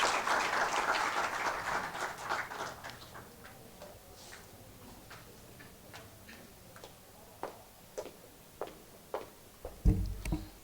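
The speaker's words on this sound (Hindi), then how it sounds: "जोरदार तालियों के बीच।" An audience at a Hindi poetry gathering in Mumbai's customs building claps to welcome a poet to the stage. The applause starts full and fades over a few seconds, then a few scattered, sharp isolated claps follow in a quiet room.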